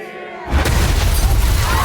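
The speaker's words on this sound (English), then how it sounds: "This is the point of the view of the explosion." An explosion in the TV series The Punisher: a sudden loud boom after a quiet moment, followed by a sustained roaring rumble and debris noise that fills the rest of the moment.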